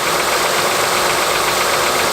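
A 2007 Honda Pilot's engine idles steadily in a clean engine bay, a close, constant rumbling hum with no speech over it.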